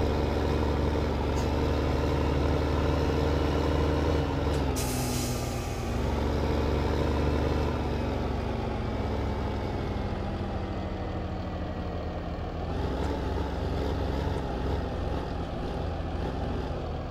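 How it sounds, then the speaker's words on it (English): Tractor engine laboring under heavy load as a big log is fed into a wood chipper, a steady loud low rumble with pitch sagging and recovering, a brief crack near the middle, no talking. "Tractor's struggling on this one."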